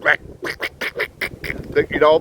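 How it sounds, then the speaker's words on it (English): A duck call blown in a quick run of about eight nasal, buzzy quacks, evenly spaced, loud and close, ending with a longer drawn-out honk. "They got their duck call."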